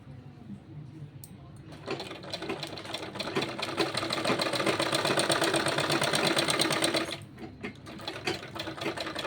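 A sewing machine hums and clatters in a fast, steady run as it stitches a button strip onto a small child's kurta. It starts after a quiet moment, rattles loudly for several seconds, then stops.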